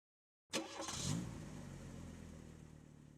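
Car engine in the 1998 driving game Virtual Driver's Ed starts with a sharp burst, revs briefly, then settles into a steady, fairly loud idle hum that continues to the end.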